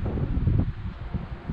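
Steady wind buffeting a microphone outdoors, a low rushing roar with gusty fluctuations and no talking.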